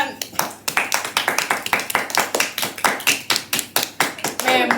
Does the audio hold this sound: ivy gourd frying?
no